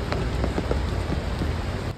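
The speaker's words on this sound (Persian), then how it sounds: "بارون همچنان میبارید" Steady rain falling at night in Golsar, Rasht, a dense continuous patter with scattered louder drops landing on nearby surfaces, no voices.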